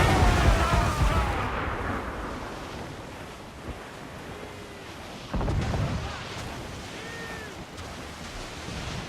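Ship cannons fire in Assassin's Creed Black Flag during a sea battle: a couple of dull booms over steady roaring surf and wind, with faint shouting in the background.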